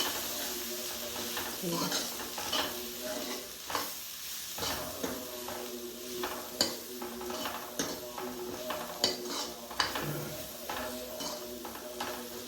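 Soft sizzling of a spice tempering with black pepper in a pan, with scraping and stirring clinks from a utensil, fairly quiet and close, with irregular clatters throughout.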